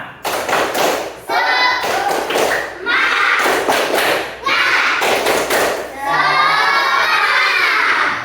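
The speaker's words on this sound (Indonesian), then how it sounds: "Coba tepuk semangat." Schoolchildren in a classroom perform a rhythmic clapping chant, bursts of claps and loud shouted chanting voices in several short rounds separated by brief pauses.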